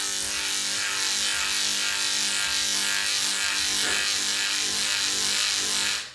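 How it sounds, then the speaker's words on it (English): A flapper peening flap is run against a piece of sandpaper to clear residue, producing a continuous rough, brushy rubbing and rasping that holds steady for several seconds before cutting off. "take a piece of sandpaper and flapper peen the sandpaper to remove the residue on the flap"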